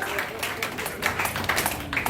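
An audience applauds at a Lagos book launch for "Oba Obinrin" hosted by the Ooni's house of Oduduwa: a dense patter of clapping filling the room, steady and fairly close, with a little voice underneath.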